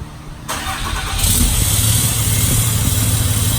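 A 6.7 Cummins diesel truck engine with a 5-inch straight pipe exhaust cranks and catches, then settles into a loud, rough, rumbling idle close by with a raw exhaust growl.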